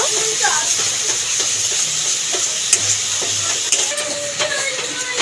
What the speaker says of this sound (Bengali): আমি বেটে রেখেছিলাম চীনা বাদাম আর পোস্ত এটা দিয়ে দেবো এবার ভালো করে কষিয়ে নেব